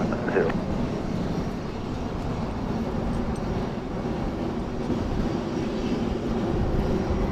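An Air France airliner approaches Princess Juliana Airport on Sint Maarten over Maho Beach, giving a steady, broad engine rumble that holds evenly throughout while someone talks over it.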